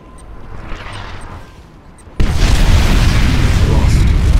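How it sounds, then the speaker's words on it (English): A nuclear missile explodes in the real-time strategy game Command & Conquer 3: Kane's Wrath, a sudden loud boom after a quieter lull that becomes a sustained deep roaring rumble. "Nuclear missile launched."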